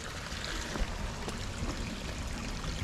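Water trickles and splashes out of a storm drain inlet near a creek during the first flush of the season, a faint, steady patter heard alone at a distance.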